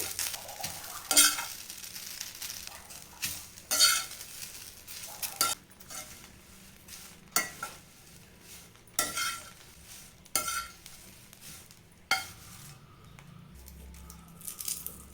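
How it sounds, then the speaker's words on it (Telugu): Cleaned curry leaves frying in a pan until crispy for curry leaf powder, with intermittent scraping stir strokes and clinks of a utensil against the pan over a faint background sizzle, close and sparse. "ఇప్పుడు ఈ కరివేపాకును అయితే క్రిస్పీగా అయ్యేంత వరకు ఫ్రై చేసుకుంటే సరిపోతుంది"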